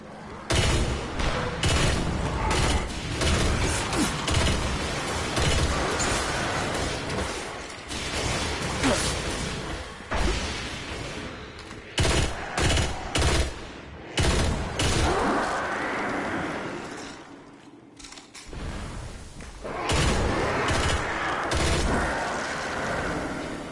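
Pulse rifle fire in Destiny, rapid loud bursts of shots separated by short pauses, joined by booms and mechanical clatter over about twenty seconds of steady combat noise.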